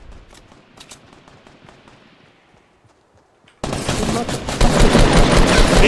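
Gunfire rings out in the Fortnite video game, with sparse sharp shots at first, then a sudden loud stretch of rapid automatic fire that grows even heavier near the end.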